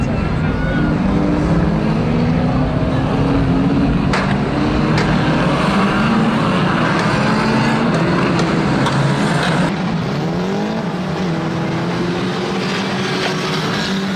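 Two-litre banger racing cars pulling away again on the track after a stoppage, a loud continuous mix of revving engines that rise and fall, with a commentator talking over it.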